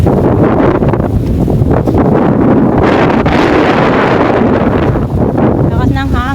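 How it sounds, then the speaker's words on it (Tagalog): Strong wind buffets the microphone in loud, continuous roaring gusts that swamp everything else, with a short whistling squeal near the end. "Lakas ng hangin."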